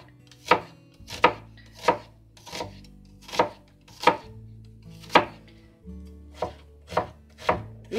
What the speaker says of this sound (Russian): Видите, идут движения такие режущие, не просто рубящие, а режущие вдоль, как бы доски получается.